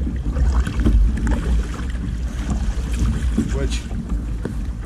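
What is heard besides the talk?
kayak being paddled at cruising speed on water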